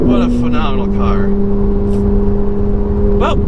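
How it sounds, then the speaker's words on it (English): A Ferrari 488's engine and exhaust hold a loud, steady drone that steps down slightly in pitch early on, with people talking over it. "I think it's safe to say the exhaust is good."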